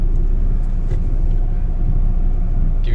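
Car pulling away after a transmission service, a steady low rumble of engine and road noise, close and continuous throughout, with no talk.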